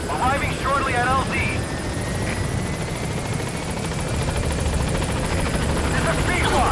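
A support helicopter in Metal Gear Solid V: The Phantom Pain arrives at a landing zone, its steady rotor thrum and engine whine holding loud throughout, with a radio voice briefly speaking near the start.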